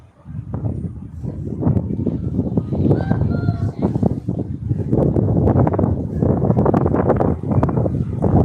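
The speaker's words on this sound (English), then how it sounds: "Sounds windy there." Wind gusting across a microphone on a street in England, where pigeons gather, producing a steady, loud low rumble that buffets the whole stretch, with faint voices underneath.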